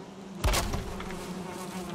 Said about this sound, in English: Bees are happy.